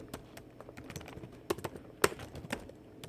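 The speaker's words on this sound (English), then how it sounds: "I know I'm typing on my computer." Clicky keystrokes on a computer keyboard tapping out in irregular bursts, close and fairly quiet, with a few sharper louder presses.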